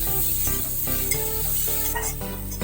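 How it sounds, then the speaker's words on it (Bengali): Vegetables frying and sizzling in a pan for a shrimp dish with sweet potato greens, salted and stirred steadily, with a continuous loud sizzle and a scrape of the utensil now and then. "এবার আমি সবজিটা ভালো করে লাল লাল করে ভেজে নেব।"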